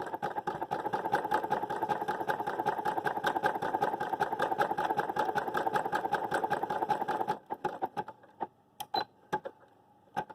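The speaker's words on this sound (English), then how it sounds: "You want to make sure when you're sewing with stretch material that you don't pull it." A sewing machine stitches stretch fabric in a fast, steady run of rapid mechanical clicks for about seven seconds, then stops and leaves a few scattered handling clicks and clunks.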